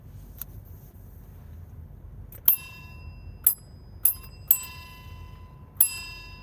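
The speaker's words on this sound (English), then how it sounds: "I got a bell." A bicycle bell rung close by five times in an uneven rhythm, each bright metallic ding ringing out briefly over a quiet indoor background.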